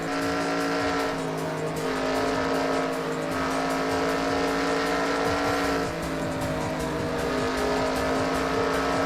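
Race cars overtake in the NASCAR Racing 2003 sim, a dense, steady multi-engine roar with layered droning harmonics that rise and fall slightly as the cars jostle for position, loud and continuous throughout.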